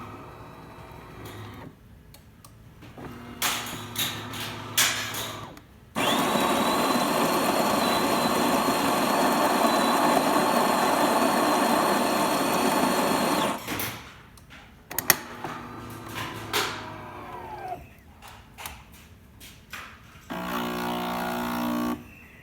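DeLonghi espresso machine, freshly repaired after a no-coffee fault, pulling a test shot: a steady loud pump drone runs for about eight seconds, bracketed by clicks, brief hisses and a short buzzy burst near the end.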